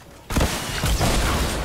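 A sudden loud blast from a bomb going off in a video game, with a sharp onset and a dense noisy rumble that carries on for over a second. No speech over it.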